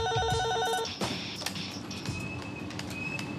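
Telephones ring in a town-centre sales office where a small team handles customer calls, with a clear repeated ring at the start followed by other fainter tones and office clatter.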